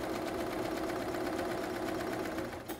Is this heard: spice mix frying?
no